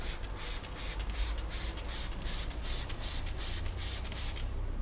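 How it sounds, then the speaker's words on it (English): Repeated quick sprays of water hiss onto a car bonnet, about a dozen bursts in a steady rhythm, close and fairly soft. "if I were to spray the water like this"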